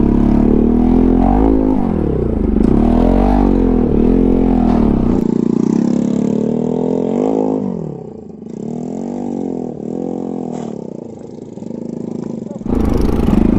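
A motorcycle engine revs loudly and close by in repeated rising and falling surges near Khamtighat bridge. It then drops to a steadier idle-like drone, with no talk over it.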